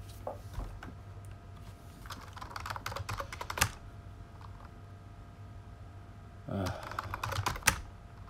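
Someone types a password on a computer keyboard in quick bursts of clicky keystrokes separated by pauses, close and fairly quiet over a low background hum.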